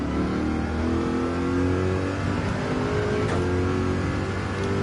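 A race car engine revs hard and continuously in Gran Turismo 7, a loud, steady high-pitched drone with slight pitch shifts as it accelerates.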